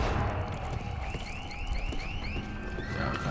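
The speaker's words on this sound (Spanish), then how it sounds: "Voy a cargarme la puta alarma." A car alarm in the video game Dead Island 2 repeats a series of rising electronic chirps in a steady rhythm over constant background noise.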